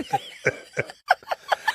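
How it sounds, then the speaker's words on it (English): A series of short, sharp coughs in irregular bursts, close to the microphone, some mixed with breathy laughter. "I keep laughing and I'm coughing from my darn allergies"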